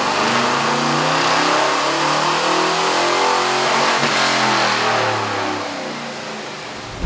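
A 1994 Ford F-150 SVT Lightning with a rebuilt engine and mild cam revs steadily on a dyno, a loud, sustained engine roar climbing in pitch over about seven seconds with no talking.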